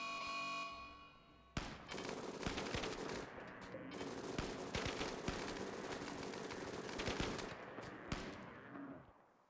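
Rapid gunfire in a swamp-set video game: dense bursts of automatic weapon fire crackle almost continuously at close range, with sharp individual shots punctuating the barrage before it cuts off.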